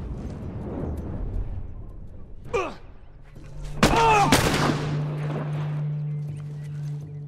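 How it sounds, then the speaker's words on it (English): Gunfire and combat noise from The Last of Us video game, a few sharp cracks and whooshing impacts over a low rumbling background, followed by a sustained droning hum, with no speech. "Taking his shots out on Ellie."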